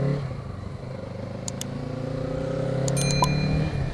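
A 2021 Kawasaki Z650 motorcycle riding off, its engine note rising steadily as it accelerates, with a few light clicks and clatters over the close engine drone.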